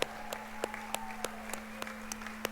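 Audience applause for Hall of Fame members standing at a San Antonio tribute event, a steady patter of clapping with sharp individual claps standing out, moderately loud and continuous without talk.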